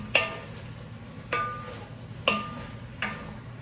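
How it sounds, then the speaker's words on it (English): A spoon scrapes through a pot of red beans with meats and ham, four separate knocking strokes about a second apart over a quiet background. "I'm just gonna give this all a stir for the first time, get it all mixed up together really well"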